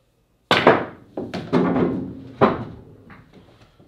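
A cue ball striking the rails of a pool table, a few sharp knocking impacts spaced irregularly and each ringing out briefly, close and clear with no talk.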